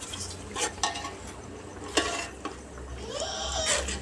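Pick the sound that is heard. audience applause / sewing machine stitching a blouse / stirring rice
stirring rice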